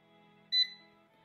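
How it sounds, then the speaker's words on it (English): An air fryer, about to cook garlic parmesan chicken wings, gives a single short electronic beep as it is switched on, close and clear over a faint background hum. "Okay, we're gonna turn it on."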